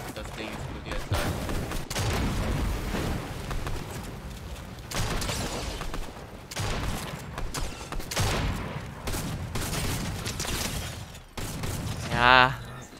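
Explosions and gunfire in a Fortnite no-build match, a series of broad bursts and booms repeating across the stretch at moderate level, while a German-speaking player talks throughout.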